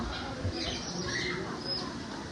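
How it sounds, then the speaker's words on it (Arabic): Birds squawking in a bird park in Taif, Saudi Arabia, with parrots among the birds; harsh calls come and go over a steady, busy outdoor background. "شوف عاد هنا في طيور"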